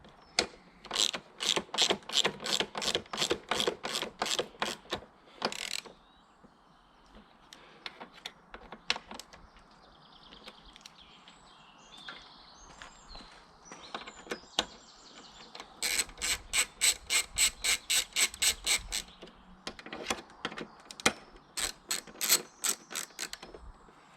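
A ratchet wrench tightens exhaust bolts on a Honda VFR800 motorcycle, fitted with an aftermarket exhaust, in several runs of quick, crisp clicks separated by short pauses, close and clear with no talking.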